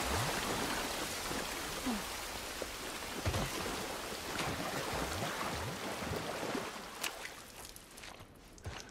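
Steady rain hisses throughout in The Last of Us Part I, a dense broadband patter of drops on surfaces that thins slightly near the end, with no talking.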